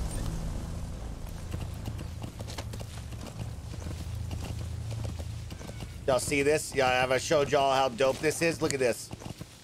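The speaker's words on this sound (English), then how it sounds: "It's just a horse with a boot on the side of it." Horse hooves clip-clop steadily in the video game Metal Gear Solid V, low in the mix beneath someone talking, followed by louder voiced bursts near the end.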